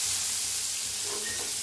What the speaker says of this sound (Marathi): उलटण्यानं असं पाण्याचा शितुडा द्यायचा